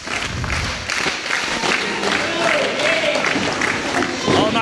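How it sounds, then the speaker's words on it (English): A wrestling crowd at the Civic Auditorium roars and cheers steadily behind loud commentary, with scattered clapping and shouts across the whole stretch. "I'd listen to the crowd here at the Civic Auditorium getting behind Sigmund"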